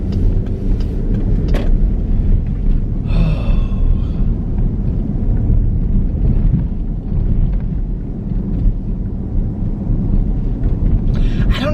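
Low rumbling thunder from a lightning storm rolls continuously and fairly loud across the whole stretch, with a brief sharper crack near the start and no talking over it.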